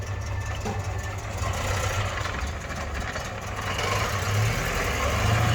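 A GAZ Volga M21 car engine idles steadily close up, a loud continuous low rumble that builds slightly toward the end.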